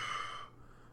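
A voice imitates a deep, guttural exhale as a brief, breathy rush of air that fades out quickly, heard close and faint.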